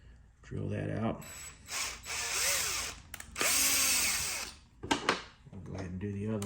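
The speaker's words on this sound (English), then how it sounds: "Just simply drill that out." A power drill with a 3mm bit bores holes for a press pin in a 1/6 scale tracked bulldozer model, running in several loud whining bursts with pauses between them, with brief talk at the start and end.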